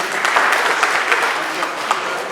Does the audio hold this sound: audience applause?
yes